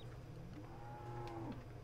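Cows in Farming Simulator 17 on the Lone Oak map, with one long drawn-out moo rising and falling over steady low farm ambience, fairly close and clear with no talking.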